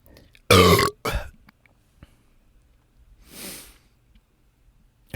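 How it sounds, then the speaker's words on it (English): A loud, close burp erupts and drags on for roughly half a second, then a second shorter belch follows right after. Later comes a softer, breathy exhale. There is no talking. "I feel another burp inbound."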